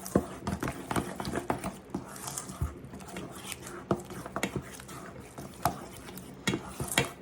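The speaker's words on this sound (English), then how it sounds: "Now, let's stir it around." A spoon stirs a cauliflower tomato bake with added salt in a pot, with irregular soft scrapes and clinks against the pot close by.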